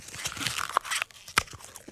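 Crunchy eating sounds from a comic radio drama, close crisp bites and chewing crackles at an uneven rhythm, fairly quiet with no talk.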